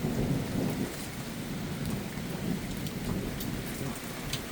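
Steady rain falls in the wake of a severe thunderstorm, a constant hiss of drops on surfaces with occasional sharper patters, no talk.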